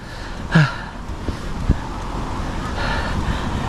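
Steady wind rushing and buffeting across the microphone during a bike ride, with faint road noise underneath and a brief thump partway through.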